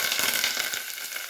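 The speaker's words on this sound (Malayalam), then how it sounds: "അരിഞ്ഞു വെച്ച കൊച്ചുള്ളിയും പിന്നെ കറിവേപ്പിലയും അത് ഈ ചൂടായ എണ്ണയ്ക്കകത്ത് ഇടാം" Chopped shallots and curry leaves crackle steadily in hot oil for a short stretch, a dense, bright sizzle with no talking over it.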